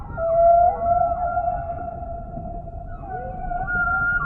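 A long, tonal humpback whale song phrase in the deep South Pacific ocean, sustained moaning notes with slow rising and falling pitch over a low, rumbling underwater background.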